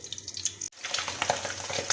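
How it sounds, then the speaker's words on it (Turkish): Meatballs fry in a pan with a dense, steady sizzle that starts abruptly after a brief silent gap near the start, crackling on close and loud with no talking. "Son olarak köftelerimi kızartıyorum arkadaşlar."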